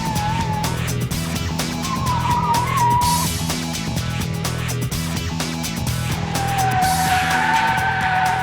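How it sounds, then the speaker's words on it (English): A race car skids around a skid pad at a racing school, its loud steady engine drone overlaid by long wavering tire squeals that come and go several times, close and dominant throughout with no speech. "So you can really have fun on the skid pad."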